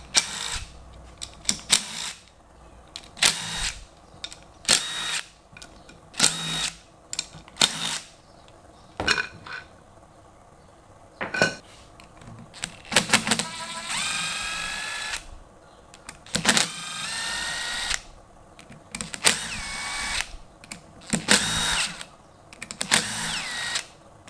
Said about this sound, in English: move on to the clutch side and start tearing that apart